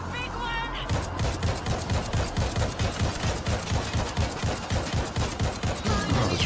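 Rifle fire in a shooter video game rattles off in a fast, steady automatic stream of loud, evenly spaced shots for several seconds, following a brief quieter lead-in.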